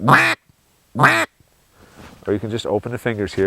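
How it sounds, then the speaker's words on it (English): Two short, sharp quacks blown on a handheld duck call, spaced about a second apart and close to the mic, followed by someone speaking. "That first quack is something that you can just use that and get the ducks in."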